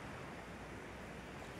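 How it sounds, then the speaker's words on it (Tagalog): Large ocean waves give a steady, dense roar of surf, continuous and fairly loud like close water mixed with wind, with no voices. "Malaki na alon din doon."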